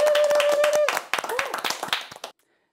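Small audience of senior Catholic academy participants clapping briefly in a studio, a burst of claps with a whistle and some voices mixed in, then stopping abruptly.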